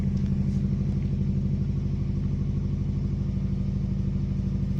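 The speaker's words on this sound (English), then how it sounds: "it starts first time every time and settles to a very nice idle quickly" A cold Subaru Impreza GC8 RB5 with a 2.0 turbo engine idles steadily, a low, even rumble with a fast regular pulse, close and continuous with no revving.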